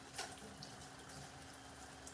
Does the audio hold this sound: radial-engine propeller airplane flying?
no